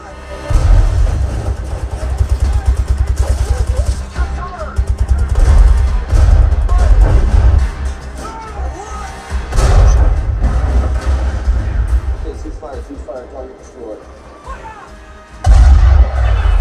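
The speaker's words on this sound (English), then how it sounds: "You already know the type of slam you're going to get when those tanks start shooting." Tank cannon fire and battle explosions from the film Fury, played through a KEF KF92 subwoofer: repeated heavy booming blasts with deep rumbling low end, loud and sustained across the scene with brief pauses between volleys.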